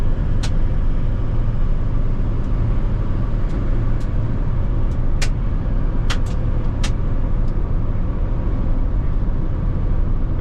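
A 2008 Chevy 3500 pickup with a 6.6-liter Duramax diesel and automatic transmission cruises at about 60 mph, a steady loud broadband road and engine rumble with faint ticks over it, no talking.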